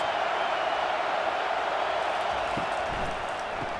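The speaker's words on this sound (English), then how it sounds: "Big 3rd down as the crowd gets behind this defense" In the College Football 25 video game, a stadium crowd roars steadily during a Temple vs. USC matchup, a dense, constant wash of cheering that stays loud throughout.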